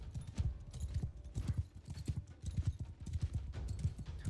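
Galloping horse hooves in Mount and Blade II: Bannerlord, a steady rapid clip-clop of several beats per second at moderate loudness, running throughout with no talking over it.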